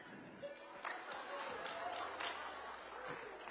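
Thin, scattered applause from a small crowd at a political campaign stop in Richmond Hill, a few loose claps that come and go under murmuring voices and never build into a full ovation.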